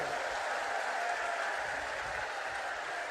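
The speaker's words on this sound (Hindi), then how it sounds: "जरा जोर से ताली बजाओ।" Crowd clapping at an outdoor political election rally in Ranaghat, a continuous fairly faint wash of applause lasting a few seconds with no clear voice on top, heard from a distance.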